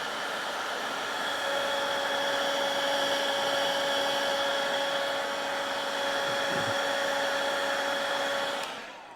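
Heat gun blowing hot air over heat-shrink tubing on butt-spliced wires of a 1973 Suzuki TC125, a steady loud whirring hiss with a constant tone, running continuously for several seconds before cutting off.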